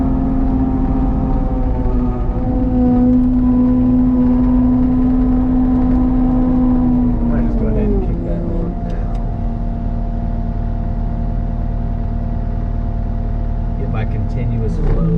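A Cat 289D3 compact track loader with a forestry mulcher head running at low RPM to warm the hydraulics, a loud steady engine drone and whirring hum close by that shifts pitch slightly partway through.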